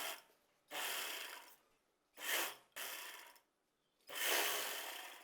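A sewing machine stitches an organza fabric skirt pocket in short bursts: four separate runs of whirring stitching, each about a second long, with quiet gaps between them, close and fairly soft.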